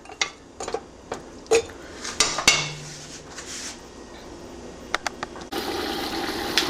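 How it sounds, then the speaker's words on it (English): Marinated meat for an Indian korma-style curry is sautéed in a pot, with a spoon clinking and scraping against the metal in scattered knocks, then a steadier sizzling hiss near the end. "Keep sauteing it with the meat that was marinated."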